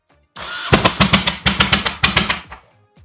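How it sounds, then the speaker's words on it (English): A Honda Shadow motorcycle engine cranks and catches, sputtering in uneven rhythmic bursts before dying back down; close and fairly loud, no voices. "I think we're just gonna fire the bike up"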